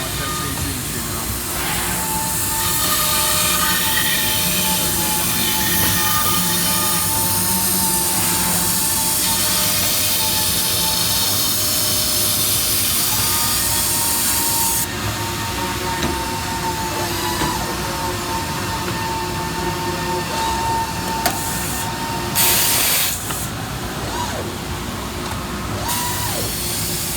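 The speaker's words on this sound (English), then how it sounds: "Watch that CNC machine run." A CNC machine runs steadily inside a production shop, a continuous mechanical whine and hiss with tonal hum and shifting broadband noise, loud and close, with no talk over it.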